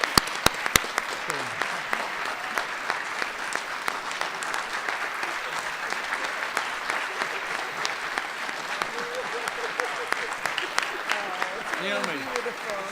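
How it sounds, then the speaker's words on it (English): Audience at a special town meeting clapping in a sustained round of applause, steady and dense for several seconds, with a few sharp nearby claps at the start and some voices mixed in underneath. "please give her a round of applause"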